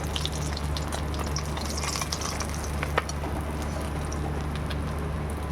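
Bata fish fry in a pan with a steady, even sizzle and crackle that continues without break, joined by a low constant hum and no talking.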